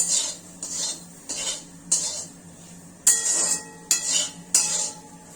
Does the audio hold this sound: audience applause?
no